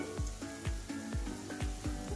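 A spice tempering for kadhi sizzles steadily in hot oil as turmeric powder goes in, a soft, close crackle under a quick, regular series of tapping knocks.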